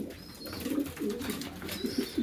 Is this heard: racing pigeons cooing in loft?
yes